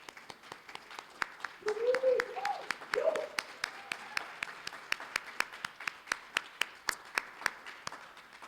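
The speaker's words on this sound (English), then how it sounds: "So just a round of applause for Priti." An audience at a UN award event breaks into applause, with many sharp claps in a rapid, steady patter lasting several seconds while a voice briefly calls out over it.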